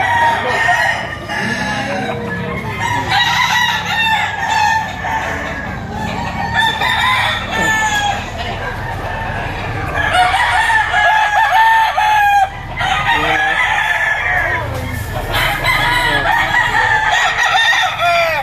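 Several roosters crow loudly over and over, their calls overlapping amid clucking hens at a busy poultry auction market.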